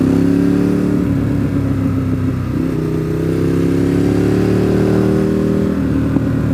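Ducati 848 motorcycle engine under way on the road near Deals Gap, a steady loud drone whose pitch climbs, dips around midway, then rises again as the rider works the throttle, with no talk.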